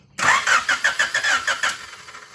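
A 3rd-generation Honda Prelude with a flooded carburetor cranks over on the starter, a loud, close, rhythmic chugging of about eight pulses that fades without catching.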